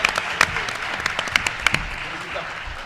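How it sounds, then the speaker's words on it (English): Audience applause with a whoop greeting a guest speaker at a talk on social media and social change: a dense, steady wash of many hands with sharper individual claps standing out, fairly close, fading toward the end. "let's give Nancy Yoon a big round of applause"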